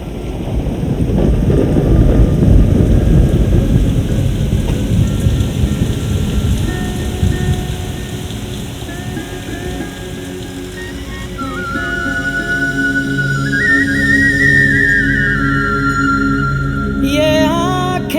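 A thunderstorm at night with heavy rain: dense, loud rumbling downpour and thunder that eases after several seconds, leaving steady rain under rising sustained musical tones.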